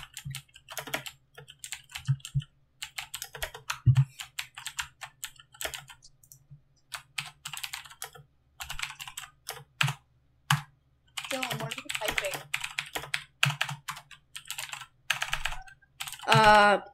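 Typing on a computer keyboard while playing a Minecraft building game: bursts of quick, sharp keystrokes separated by short silences, close and clear, with a few brief louder knocks.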